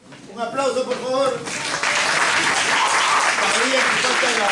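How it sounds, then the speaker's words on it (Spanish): Audience applause fills a room at a morning school event, with broad steady clapping that swells quickly and holds loud, while voices call out over it near the start. "Un aplauso, por favor."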